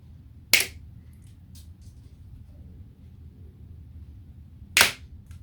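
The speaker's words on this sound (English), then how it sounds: "First of all, I'm going to cut that loop off. Just use cutters for that." Cutters snipping a loop off a model Blackburn Monoplane part, making two sharp isolated snaps several seconds apart over a quiet low room rumble.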